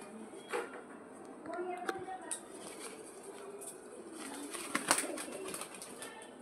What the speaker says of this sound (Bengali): একদম ভালো পায়রাটা, ঠিক আছে। তারপর এটাকে ছাড়বো আমি।